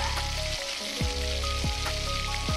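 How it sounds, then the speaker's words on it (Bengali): Fish roe fritters sizzle and crackle steadily in hot oil, a close, continuous frying hiss with a few brief scraping or turning sounds from a utensil. "দেখুন আমাদের হয়ে গেছে মাছের ডিম ভাজা।"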